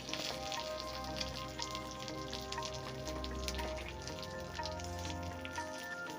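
Cabbage and eggs sizzle steadily in a pan, a constant crackling fry with small pops running throughout, close and fairly loud with no talking.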